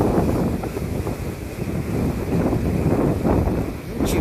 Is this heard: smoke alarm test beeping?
no